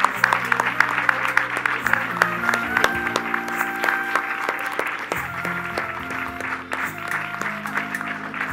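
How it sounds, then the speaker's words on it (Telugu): An audience at a devotional gathering at Sivam claps steadily in a moderate, even patter while sustained harmonium-like music tones play along underneath. "అందరు గట్టిగా కరతాళ ధ్వనులు చేయండి"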